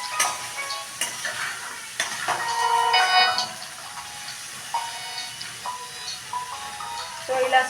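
Sprouted chickpeas and carrot frying in a kadai, a soft, steady sizzle with scattered scraping and stirring clicks from a spoon against the pan, close and fairly quiet.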